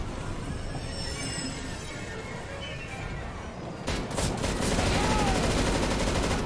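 Gunfire erupts in a Counter-Strike: Global Offensive co-op mission, loud and close, with a sharp cluster of shots after a low, steady game rumble, then dense sustained firing.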